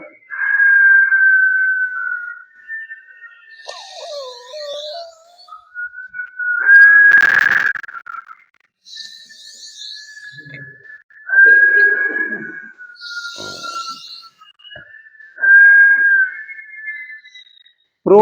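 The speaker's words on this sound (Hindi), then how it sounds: "और मुंह से सीटी बजाते छोड़ना है।" Person exhaling through the mouth with a whistle during a yoga breathing exercise, long sustained whistled tones repeated several times with pauses between breaths, close and clear.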